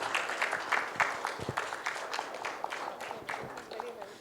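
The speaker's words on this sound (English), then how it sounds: "Can we have a huge round of applause" A crowd claps steadily in a dense, continuous patter after a talk on AI ethics, with voices mixed in beneath the applause throughout.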